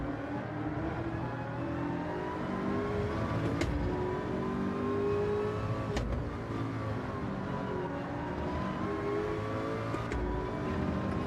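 A race car engine roars continuously in a racing video game, loud and close, its pitch sweeping up and down through gear changes, with a few sharp clicks cutting through.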